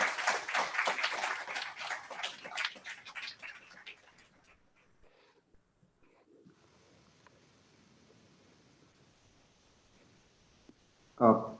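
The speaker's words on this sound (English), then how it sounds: "can we please have a good round of applause from the city brokers?" A conference audience of students applauds a speaker. The clapping is dense and fairly loud, then thins out and fades into near silence over about four seconds, and a brief bump follows later.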